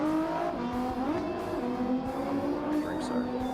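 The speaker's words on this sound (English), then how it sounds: "Woo, smoky burnouts." Engine drone with rising pitch and tire squeal from smoky burnouts in a racing video game with a minivan race, steady and continuous, with a voice briefly over it.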